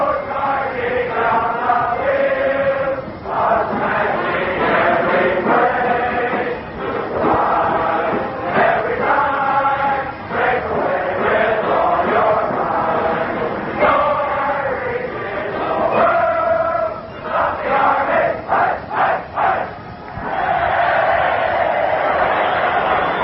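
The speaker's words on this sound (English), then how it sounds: "The Cadets start to sing, the band starts to play, and we start to listen." Army cadets sing while a band plays in a packed Yankee Stadium crowd before a football game against Notre Dame, heard as loud, continuous, muffled and lo-fi massed voices and brass, with crowd noise underneath.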